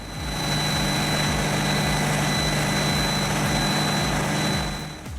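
Pezzolato PTH 1400/1000M wood processor powered by a Caterpillar C27 engine running steadily, a loud deep rhythmic engine throb with a constant droning hum, heard alone for about five seconds.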